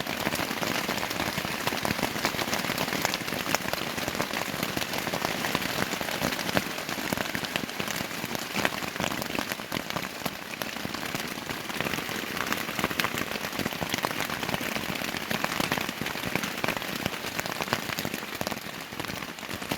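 Torrential rain pours steadily onto a leaking tent, a dense, continuous drumming and patter of drops that stays loud and unbroken throughout, with no voices.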